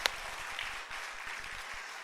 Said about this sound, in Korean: 우리 큰 박수로 다시 한번 격려하면 좋겠습니다